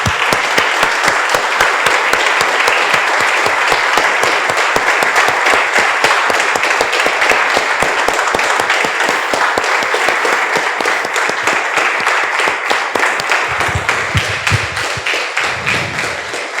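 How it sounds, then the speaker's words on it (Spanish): Loud, steady applause from a church congregation, dense rapid claps sustained for about sixteen seconds, with a few low thumps near the end and no talking. "Vamos a un aplauso, hermanos, al Señor."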